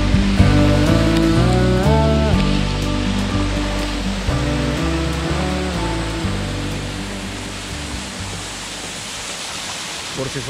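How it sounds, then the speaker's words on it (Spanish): A waterfall near the Las Lajas Sanctuary in Colombia roars as a steady broadband rush beneath prominent music, the water noise growing more exposed as the music fades toward the end. "Es esta hermosa cascada."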